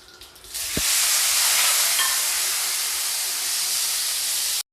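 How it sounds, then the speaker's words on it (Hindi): Grated onion hits hot oil with whole garam masala, bursting into a loud, steady sizzle that holds evenly for several seconds before cutting off. "अनियन को मैं अच्छी तरीके से गोल्डन ब्राउन होने तक फ्राई कर लेती हूँ"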